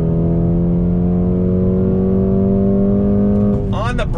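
A 2020 Mercedes-AMG CLA 35 sedan accelerating on a track, its engine droning loudly and steadily with rising tones before a quick shift change near the end.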